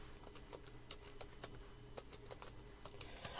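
Someone types on a computer keyboard, a quiet, close run of irregular key clicks and taps over a faint steady background hum.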